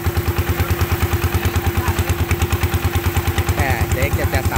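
A modified Thai farm vehicle (Itaen) with a racing cam fitted to its engine chugs loudly and close by in a fast, even pulsing rhythm, with people talking over it.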